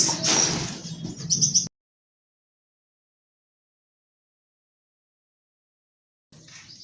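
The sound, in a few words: Java sparrows chirping in cage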